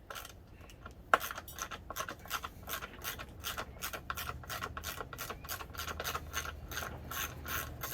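A ratchet wrench clicks in steady rapid bursts while backing out the bolts that hold the oil tank on a Suzuki motorcycle, close and alone with no talk.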